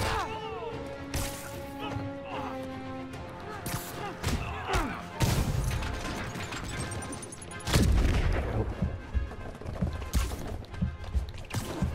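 Enemy rocket launcher fire and explosions during a Spider-Man PS4 hideout fight, several sharp heavy blasts and impacts scattered among combat effects and music, with a voice speaking in places.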